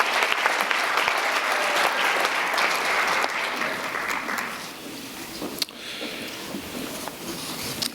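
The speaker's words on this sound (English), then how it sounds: "why don't we give all of our employee honorees a big round of applause" Sustained applause from an awards ceremony audience honoring education employees, a dense wash of many hands clapping that fades slightly partway through and continues steadily to the end.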